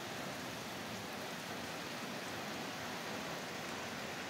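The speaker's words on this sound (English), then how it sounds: "Look at that rain." Steady heavy rain pours down on an August evening in McKeesport, Pennsylvania, a dense, even hiss of drops on roofs and pavement that holds unbroken throughout, with no voices.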